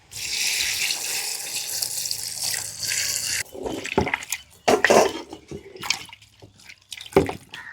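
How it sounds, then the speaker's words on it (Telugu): Water pours in a steady rush into a pot of mutton pieces, then breaks into intermittent splashes and drips, close by with no voices. "ముక్కలు ఉడకడానికి కొద్దిగా నీళ్ళు పోసుకుందాం."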